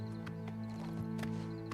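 Horse hooves clip-clopping with a neigh in the video game Oblivion Remastered, a few quick hoof strikes over a steady game hum.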